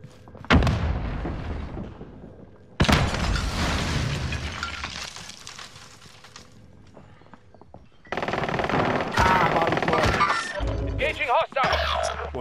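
Shooter gameplay brings loud explosive booms, the first hitting sharply and then decaying, followed by rapid bursts of gunfire, with players talking over the action.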